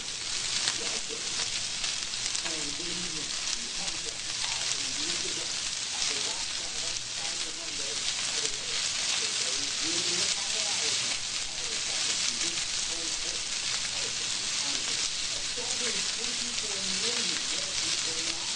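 Chicken sears in a hot pan for Chinese-style chicken, a dense, unbroken hissing sizzle that holds at an even level close to the microphone throughout.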